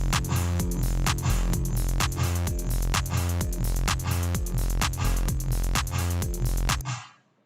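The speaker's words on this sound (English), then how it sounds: "now we have even more energy in the space with this 16th note hi-hats" A steady EDM drum pattern drives along, with heavy kicks on each beat, a busy run of 16th-note hi-hats and bright snare hits. It plays loud and alone, without voices, then cuts off and fades at the end.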